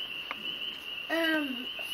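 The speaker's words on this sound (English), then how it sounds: "You hear the little frogs?" Little frogs calling at night outside a house, a single rising-falling call standing out over a steady high insect-like drone, with faint background noise.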